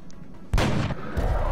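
Two loud, close gunshot blasts ring out in the video game XCOM: Long War, the first a heavy boom with a long decaying tail and the second following about half a second later.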